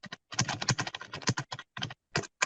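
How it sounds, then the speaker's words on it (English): Fingers type on a computer keyboard, producing close, crisp bursts of rapid key clicks broken by brief pauses, heard alone with no voices. "what are you doing on the keyboard?"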